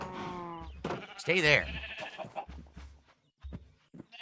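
Minecraft sheep bleat in a wavering, nasal cry at the start, with further farm-animal calls following as someone speaks briefly over the game sounds.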